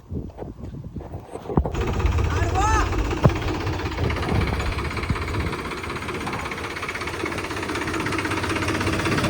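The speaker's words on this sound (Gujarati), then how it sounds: "તો ચાલો નીકળી આપણું ટ્રેક્ટર લઈને આપણી વાડી બાજુ" A tractor engine rumbles and chugs steadily after a start-up clatter, close and loud, with a brief squeak early on and voices under it.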